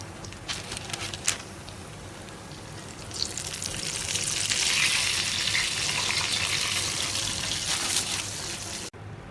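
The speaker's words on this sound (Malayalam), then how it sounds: "മീൻ രണ്ട് സൈഡും തിരിച്ച് മറിച്ചിട്ട് പാകത്തിന് ഫ്രൈ ആയിട്ടുണ്ട്." Fish frying in hot oil in a home kitchen, a steady crackling sizzle that grows louder midway, with a few sharp spits and pops early on and a brief clack near the end.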